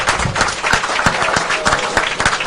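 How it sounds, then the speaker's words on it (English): Audience at a postgame football show in a bar applauding the quarterback, loud close clapping and cheering with sharp individual claps standing out over the crowd. "round of applause for the quarterback."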